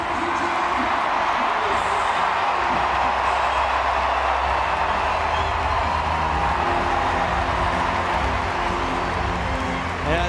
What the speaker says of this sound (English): this big crowd here in the Olympic Stadium, hoping he can give them something to cheer